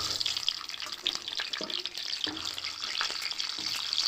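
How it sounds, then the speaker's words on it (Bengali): Cut pointed gourd frying lightly in oil in a village kitchen, with a soft, steady sizzle and occasional clinks and stirring, plus a watery, running-tap quality in the background. "এই যে কেটে রাখা যে পটলগুলো সেইগুলো একটু হালকা করে ভেজে নেব"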